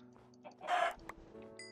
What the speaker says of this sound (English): That is a chicken.